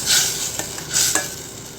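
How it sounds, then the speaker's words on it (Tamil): A spoon scrapes through brinjal curry in an oily pan as chili, turmeric and coriander powders are mixed in. Two or three close, gritty strokes play over a soft sizzle, with no talking. "நல்லா மிக்ஸ் பண்ணி விட்டுடலாம்"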